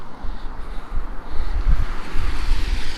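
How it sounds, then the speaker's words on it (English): Strong gusty wind buffets the microphone in low rumbling bursts, with a faint wash of surf behind it, on the beach at Crimdon Dene in northeast England in February. "It's quite quite windy."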